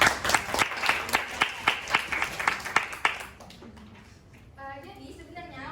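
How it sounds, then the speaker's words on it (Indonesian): Students in a classroom clap together in a quick, rhythmic burst of about a dozen close claps that stops after three seconds, followed by quieter room sound and a voice speaking. "Boleh tepuk tangan dulu untuk Salsa?"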